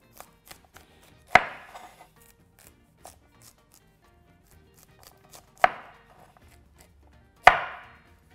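A knife cuts cauliflower into slices on a board: three sharp, close chopping thuds spaced a few seconds apart, with faint small taps and rustles in between.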